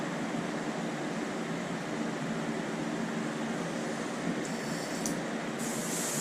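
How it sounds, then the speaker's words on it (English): An airbrush sprays white paint onto a cup, giving a steady, continuous close hiss with no pauses, brightening briefly near the end. "Get the spray in some white there."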